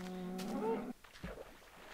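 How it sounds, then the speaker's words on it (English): A cow in the Minecraft video game gives a single drawn-out moo, fairly clear and close, followed by faint soft in-game movement sounds. "Come on, I see a cow"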